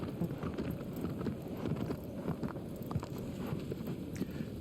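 Horse hooves clip-clop in a quick, uneven gallop, drawing nearer in the Shadow of the Colossus video game, soft and fairly faint over light wind.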